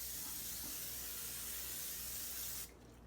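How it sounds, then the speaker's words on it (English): A continuous hissing aerosol protector spray onto Timberland boots runs steadily for nearly three seconds, then cuts off abruptly, leaving near silence. "I'll spray it over my Timbs before I go outside"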